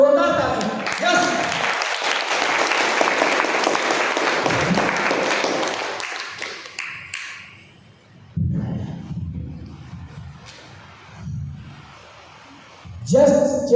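Loud audience applause at a company launch event, a dense burst of clapping for about six seconds that fades out, followed by someone speaking.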